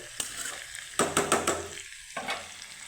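Potatoes and pointed gourd with spices being sautéed in a pan, brief sizzling bursts and scraping stirs in quick uneven clusters, close and moderately loud, then settling.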